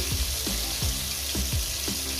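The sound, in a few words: tomatoes frying in pan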